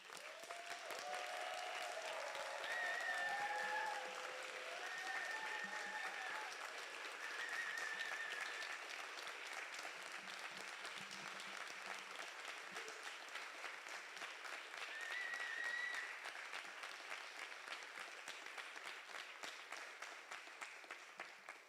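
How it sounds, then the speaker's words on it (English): Audience at a final three-minute PhD thesis contest applauds the participants, a long, even wash of clapping lasting about twenty seconds, with faint background tones, and no talking. "Let's give them one final big round of applause"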